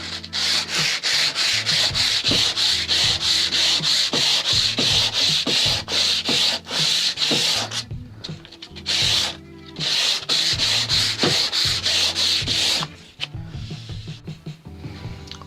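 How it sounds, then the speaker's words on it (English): Hand sanding a wooden guitar fretboard with rough, rhythmic back-and-forth rasping strokes, loud and close, with a few brief pauses between passes. "Quick sand once more. The ebony's lovely and smooth, but this stuff comes up pretty rough."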